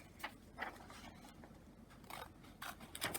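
Scissors cut paper several times in quick, uneven strokes, close and fairly quiet, with a faint scraping between cuts.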